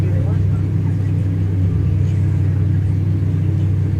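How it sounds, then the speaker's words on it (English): A truck engine in a video game revs in automatic gear while driving through muck, a loud, steady low rumble holding close and constant throughout. "You throw this bad boy in automatic and she just revs up like she's eating good"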